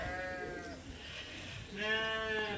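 Lambs bleat over munching sounds while eating a grass-alfalfa hay mix among the flock: two clear, close bleats with a quiet pause between them.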